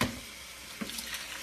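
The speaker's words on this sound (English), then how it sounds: "And so you have to wash them with cold water." Cold tap water running over pinto beans being washed in a kitchen, a short steady splashing stream with a small plop partway through, close and alone.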